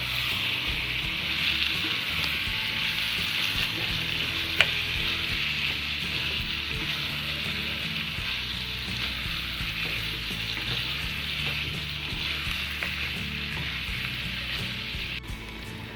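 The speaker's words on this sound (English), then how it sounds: "Keep on sauteing." Chicken curry sautéing with salt and turmeric in a pan for Bengali mangsher jhol, a long steady sizzle with occasional stirring clinks, close and continuous without voices.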